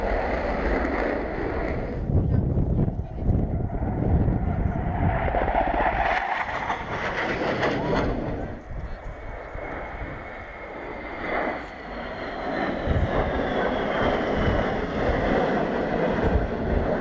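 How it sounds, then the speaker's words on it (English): Military jets of the Rafale-like Ramex Delta display take off at the RIAT airshow, a loud, sustained engine roar with gusting wind noise, swelling and fading as they climb away. "And the Ramix Delta are taking off."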